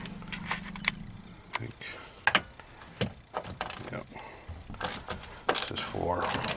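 Small 7mm bolts being worked out of the dash of a 2004 Ford F150 with a ratchet, giving close, intermittent clicks and metallic clinks in irregular bursts, with some handling noise and no speech.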